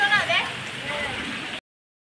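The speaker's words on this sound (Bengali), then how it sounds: "ভাই কি বৃষ্টি পড়ছে।" Rain falls steadily in cloudy Darjeeling, a dense, even hiss that stays close and constant, with a brief voice murmuring near the start before it cuts off.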